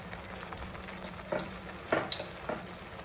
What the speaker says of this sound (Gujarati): હવે લસણ મરચાં અને ડુંગળીને બરાબર સાંતળી લઈએ હવે તેમાં ક્રશ કરેલા ટામેટાં ઉમેરી લઈએ